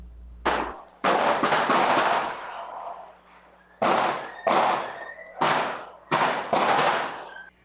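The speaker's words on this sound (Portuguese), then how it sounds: "Esses tiros foram de um ataque que começou por volta da meia-noite, em várias ruas e becos do bairro." Gunshots ring out through a hillside neighborhood in Vitória at night during an attack, loud sharp cracks in irregular bursts, some rapid and overlapping, echoing between streets and alleys with no voices.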